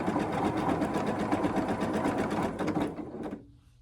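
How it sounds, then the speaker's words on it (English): A sewing machine runs fast and steady while chain piecing quilt blocks, a continuous rapid mechanical chatter that stops abruptly near the end. "And now I'm just chain piecing through the line of them."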